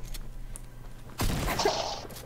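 Gunfire in the Fortnite video game: a quiet lead-in, then a sudden burst of rapid shots with a sharp onset that rings on and decays over about a second.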